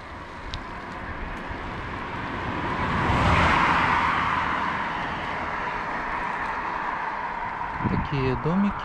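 A car drives through a rural village, its engine and tyre roar filling the whole stretch and swelling as it passes something mid-way, with a voice speaking briefly toward the end.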